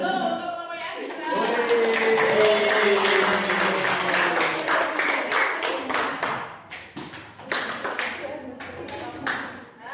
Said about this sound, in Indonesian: tepuk tangan dulu untuk kelompoknya Agisa